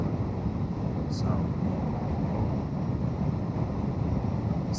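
Riding a 2025 Honda Transalp 750 motorcycle, wind buffets the microphone in a constant, loud, low rumble that runs unbroken throughout.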